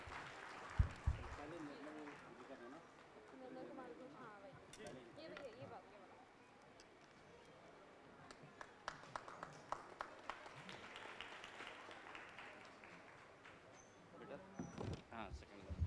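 An audience at a poetry summit gives scattered, faint, distant applause to welcome a poet, with sparse claps rising and falling under an announcer's speech.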